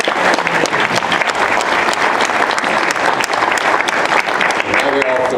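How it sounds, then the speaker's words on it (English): Loud, close applause from the audience at a League of Women Voters candidate forum: dense, steady clapping filling the room, with voices emerging as it tapers near the end. "so let's give a round of applause."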